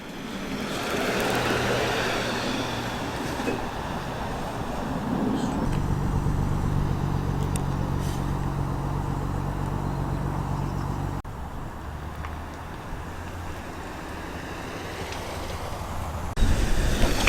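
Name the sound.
Rover P5 3-litre classic car rolling in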